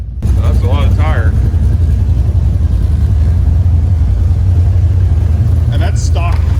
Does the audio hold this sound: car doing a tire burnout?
yes